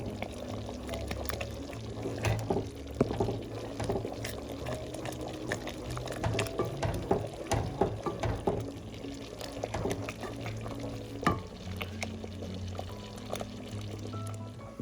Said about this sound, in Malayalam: ഒരു 15 മിനിറ്റ്സ് ആയിട്ട് ഞാൻ കൈ എടുക്കാതെ ഇളക്കിക്കൊണ്ടിരിക്കുവാണ്